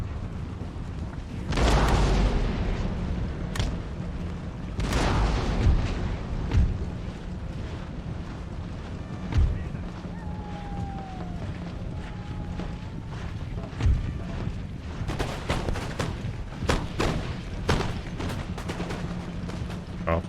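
Musket volleys and cannon fire from an Empire: Total War battle, with two heavy booming blasts early, then scattered crackling shots and a denser burst of gunfire near the end over a steady battlefield din.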